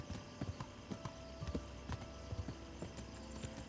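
Steady clip-clop of horse hooves walking at an even pace in the video game Kingdom Come: Deliverance, quiet and alone with no voices.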